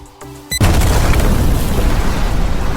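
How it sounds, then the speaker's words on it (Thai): A thrown bomb explodes in a Thai manga-reading fantasy battle against a giant insect, a sudden, very loud boom that follows a few brief beeps and then rolls on as sustained roaring noise. "ปาระเบิดตอนนี้แหละ"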